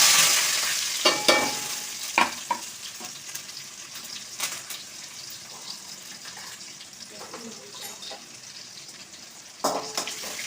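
Shallots, dried red chillies and curry leaves fry in hot oil for a brinjal poriyal, a close continuous sizzle broken by repeated spoon clanks and scrapes against the pan, with soft talk in the background.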